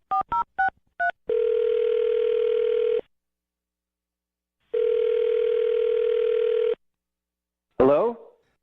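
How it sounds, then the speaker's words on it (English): A telephone plays a quick run of touch-tone dialing beeps, then two long steady dial-tone bursts separated by silence, all loud and close, followed by a brief ring or voice-like sound at the end. "I'm going to dial his phone right now and see if we can get him on the phone"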